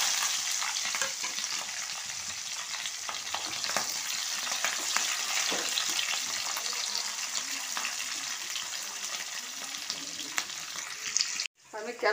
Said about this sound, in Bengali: এবার কড়াতে তেল দিয়েছি, তেলটা গরম হয়ে গেছে। এবার পেঁয়াজটা তুলে দেবো।